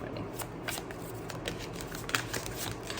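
Tarot cards being shuffled by hand, a continuous quiet riffle of rapid papery flicks and snaps, close and soft, without talk.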